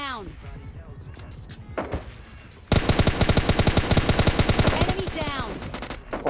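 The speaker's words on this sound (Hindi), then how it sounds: "M4 की स्वस्थ और निर्मल गोलियों से निपटा देते हैं" Rapid automatic bursts of M4 rifle fire in the PUBG Lite mobile game, starting with a few scattered shots and then a loud, sustained volley of close gunshots over someone talking.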